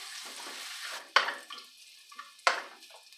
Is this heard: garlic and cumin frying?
yes